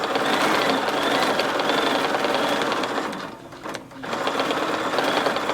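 A Bernina sewing machine with a stitch regulator stitches steadily along a ruler, a loud continuous motorized whir close by that dips briefly midway before resuming at full speed.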